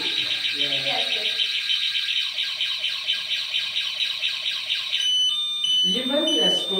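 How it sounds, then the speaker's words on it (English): A King Song N12 electric scooter sounds its anti-theft alarm, a loud, shrill, warbling electronic siren repeating in fast pulses, then shifting to steady beeps as people talk nearby. "then the scooter will sound a big alarm to alert."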